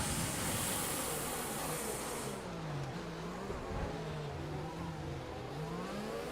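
Formula 1 race cars in the F1 2020 racing game roar continuously at high revs, with engine pitch rising and falling through gear changes as the cars accelerate down the track.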